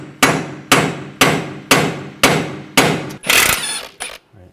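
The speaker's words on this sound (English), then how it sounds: "I'm just gonna use a punch and just hammer it down." Hammer striking a punch on the inner tie rod of a 2004-2009 Audi A4 Quattro, seven loud, evenly spaced metallic blows close by, followed by a brief clatter and a final tap, with no talk.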